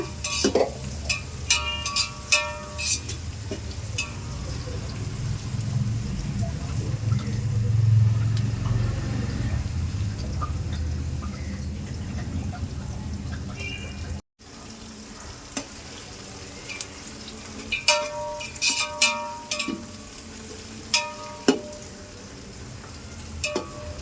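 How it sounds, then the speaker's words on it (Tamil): Onions sauté in a pan for mutton biryani, a loud, steady sizzle with scraping and clattering stirring strokes, close up. After a brief drop it resumes with sharper utensil clinks. "வெங்காயம் பாருங்க நல்லா கலர் மாறினே வருது. இன்னும் கொஞ்சம் வதங்கட்டங்க."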